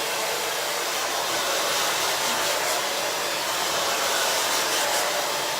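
A hair dryer roars steadily and close for the whole stretch, a constant loud airy whoosh blowing on hair, with no voices.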